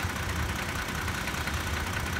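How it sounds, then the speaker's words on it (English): A Toyota Tacoma TRD Sport idles up close with a steady, rough engine rumble and a clattering, diesel-like ticking, and no voices. "I know people have said this is how the engine normally sounds, but is it me, or does it sound like a diesel?"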